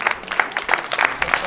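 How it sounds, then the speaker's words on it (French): Short burst of audience applause at a storytelling show, uneven and moderately loud, mixed with scattered cheers and voices across the crowd. "vous allez recevoir un tonnerre d'applaudissements"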